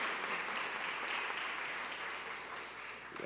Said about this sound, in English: give her a big,